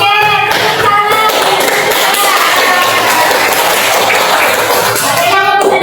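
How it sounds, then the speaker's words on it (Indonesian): A crowd, including children, applauds in a room, with loud, dense clapping filling nearly six seconds and a brief voice at the start and end. "Oke, tepuk tangan."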